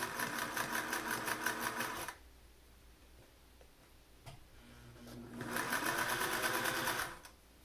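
A sewing machine stitches a home-sewn fabric face mask, with two bursts of fast, rattling needle motion separated by a quieter pause filled with faint handling noise.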